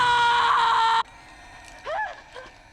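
A woman's loud, sustained war cry scream from the horror film The Descent, cutting off abruptly, followed by fainter, wavering vocal sounds against a low background.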